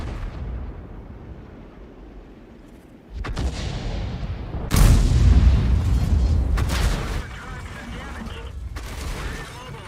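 Artillery shells from self-propelled guns striking a tank in World of Tanks: two heavy booming impacts a second or so apart, loud and close, each followed by a sustained rumbling roar over steady engine noise.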